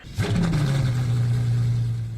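A quad-turbo V12 car engine in the Roblox game Midnight Chasers revs up sharply, then holds a loud, steady droning tone close up for a couple of seconds.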